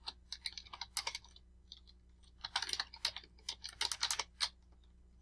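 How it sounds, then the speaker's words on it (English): Fingers type on a computer keyboard up close, bursts of quick clicky keystrokes broken by short pauses, quiet and with no voice. "so you type this in"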